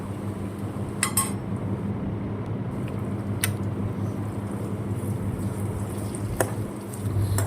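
A spatula now and then clinks and scrapes against a pan of frying ivy gourd with turmeric, three sharp knocks spread over a steady low hiss of frying, with no voices.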